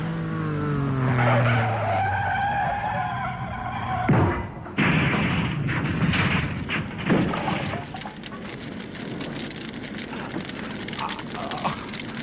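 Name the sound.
car skidding in a radio drama crash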